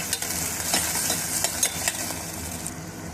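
Chopped onion, green chili and tomato sautéing in a pan with salt, a steady sizzle broken by scraping stirs at an uneven pace, close and fairly loud, with no voices.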